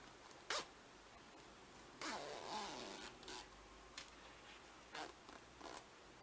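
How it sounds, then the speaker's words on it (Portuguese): A zipper being opened on a handmade sewn pouch: a sharp zip near the start, then a longer drawn pull and several short zipping bursts, close and fairly quiet. "Vamos abrir o zíper."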